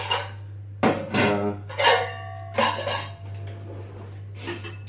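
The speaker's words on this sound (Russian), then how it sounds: "Я сейчас капусту всю сперва сюда перекладу." Cabbage for white-cabbage kimchi being moved into another dish, with a few separate clinks and clatters of pots and utensils at an even pace over a steady low hum, no talking.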